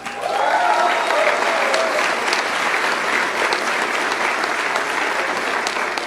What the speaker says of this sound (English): You're gonna get to clap for Jason in 20 seconds.